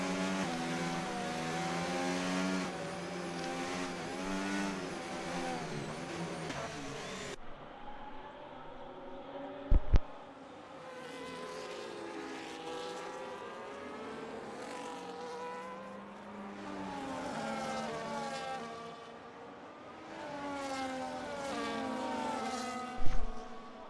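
Formula 1 cars in an F1 racing video game at the Japan round, engines whining and shifting pitch as they pass close by, with two louder sharp pops and no talking.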